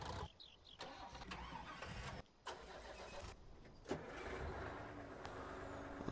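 A truck engine in Farming Simulator 19 cranks and catches after a few short bursts, then settles into a steady mid-pitched idle, close and fairly loud with no talking.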